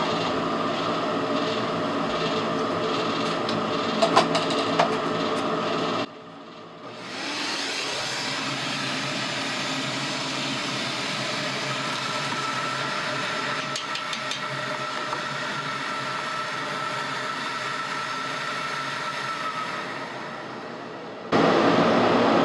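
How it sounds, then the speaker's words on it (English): A vacuum cleaning out a Harman pellet stove's burn pot runs loudly with a steady whine, cuts out briefly, then starts up again and drones on before stopping and restarting near the end. "while I'm vacuuming that"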